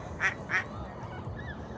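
Two short duck quacks, evenly spaced and fairly close, over a low rumble of outdoor background noise.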